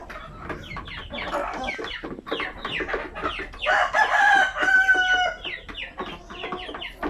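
Native chickens on a Philippine farm, with clucking hens and a rooster crowing loudly partway through, close and busy with overlapping calls.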